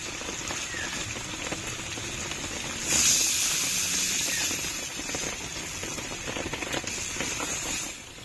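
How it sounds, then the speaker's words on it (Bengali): A loud hiss bursts up as water hits hot oil and fried spice paste in a fish curry, then settles into a steady, quieter bubbling sizzle. "মশলাটা ভালো করে কষানো হয়ে গেছে তেলও ফেলে দিয়েছে এখন আমি জল দিয়ে দেবো"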